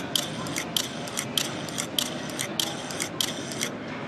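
A Leica M9 camera shutter fires six crisp, evenly spaced clicks about every half second at a busy photo trade fair in 2012. The clicks are sharp and close over a low hum of crowd noise.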